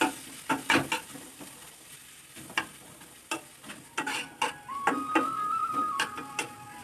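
Egg stirred into pasta frying in a pan, with a low sizzle under irregular scraping and tapping of a spoon against the pan, close and moderately quiet, a faint steady tone creeping in near the end.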